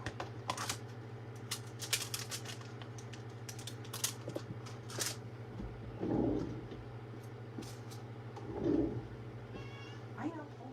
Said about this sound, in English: What's up, kitty cat?